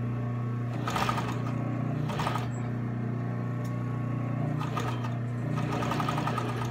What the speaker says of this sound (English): I am going to stitch in the ditch just like I did for every piece of the Hong Kong lining